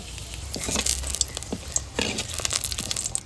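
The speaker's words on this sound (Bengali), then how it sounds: "দুটো তেজপাতা চিড়ে দিচ্ছি" Two dry bay leaves are torn by hand in a kitchen, producing close, brittle crinkling and tearing bursts over a low background hum.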